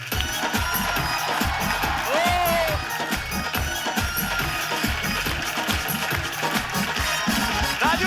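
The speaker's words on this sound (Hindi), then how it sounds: "उनके लिए जोरदार तालियां।" Studio audience at The Kapil Sharma Show, a Hindi television comedy show, applauding and cheering, with steady dense clapping and crowd noise throughout, loud and full, and a brief whistle-like rise in the middle.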